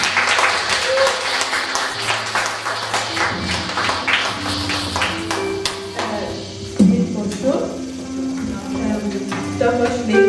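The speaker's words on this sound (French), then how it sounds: "Je vous prie d'acclamer, je vous prie d'acclamer pour Eunice" A church Sunday school audience applauds for Eunice, a steady stretch of mixed clapping and tapping around ten seconds long, with voices talking and a short louder burst partway through.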